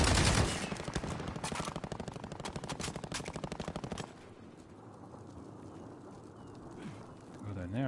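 Rapid machine-gun bursts in Call of Duty: Modern Warfare, loud, dense and sustained for about four seconds, then cutting to quieter ambient game sound with distant scattered shots.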